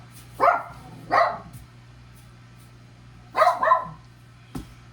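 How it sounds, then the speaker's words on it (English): A household dog barks at someone sweeping downstairs, four sharp barks in two pairs followed by a short yip, heard at moderate distance over a faint steady hum. "And of course now the dog's upset about it."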